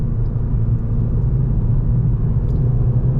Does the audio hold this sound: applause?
no